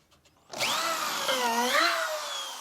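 A power drill bores pocket holes in wood for a drawer build. It spins up abruptly after a brief quiet moment, then runs as a loud, close, whining drone whose pitch bends slightly while cutting.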